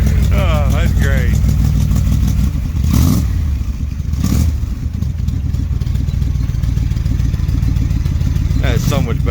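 Loud, steady engine rumble from a Dodge street van running through a custom side pipe exhaust, with a few revving surges and voices talking over it throughout.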